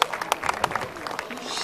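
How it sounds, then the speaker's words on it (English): A small tourist audience at the Saluting Battery in Valletta, Malta, gives a round of applause, with distinct individual claps standing out over a dense, close clapping wash. "Please give my colleague a good round of applause"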